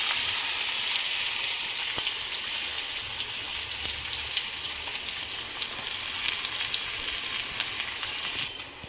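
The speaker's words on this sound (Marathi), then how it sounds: "त्यानंतर आता मी त्यामध्ये कांदा टाकणार आहे" Onion sizzling steadily in hot oil with mustard seeds in a kadhai, a dense, continuous crackling fry close by with no talking.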